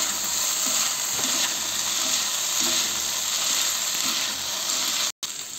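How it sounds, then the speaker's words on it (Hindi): Fried potatoes stirred into chilli potato gravy in a hot pan, a steady close sizzle with soft scraping and stirring thuds throughout and a brief dropout near the end, with no talking. "हमने जो आलू फ्राई कर रखे थे उसको डालेंगे। इसको अच्छे तरीके से मिक्स करेंगे।"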